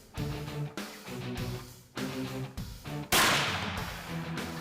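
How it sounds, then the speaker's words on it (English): A handful of sharp, loud gunshot-like blasts spaced about a second apart, each followed by a ringing decay, with no voices. "A gunshot sends out vibrations or sound waves into the air."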